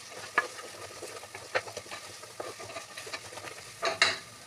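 Ginger garlic paste being stirred and fried in a pan, with close, steady sizzling broken by a string of utensil scrapes and taps and a louder scrape near the end, no voices.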